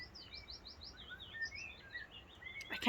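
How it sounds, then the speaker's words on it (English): A blackbird sings in a cottage garden in Ireland, a clear run of fluttering, whistled phrases at moderate distance, with a brief sharp rustle or knock at the end and no talking. "Can you hear the blackbird?"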